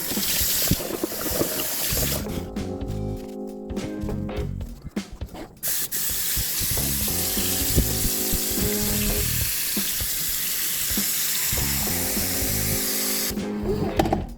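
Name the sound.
tap water filling a cooking pot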